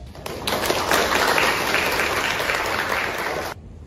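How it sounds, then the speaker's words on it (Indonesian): A classroom audience applauds after a presentation answer, a dense burst of clapping that lasts about three and a half seconds and then stops abruptly, loud and close, with no voices over it. "beri aplaus kepada"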